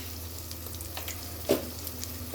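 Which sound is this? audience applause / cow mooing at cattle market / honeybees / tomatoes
tomatoes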